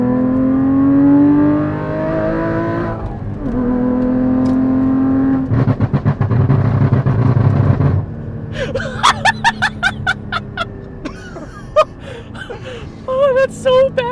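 Porsche 981 GT4 engine fitted with custom headers, exhaust and a pop tune, revving loudly and close with long sustained rev sweeps, then sharp pops and crackles on the overrun.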